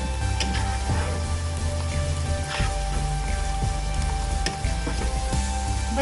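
Chopped cabbage and capsicum fry in a pan for chicken vegetable pasta, making a loud, continuous sizzle with occasional scraping stirs and spatula knocks throughout.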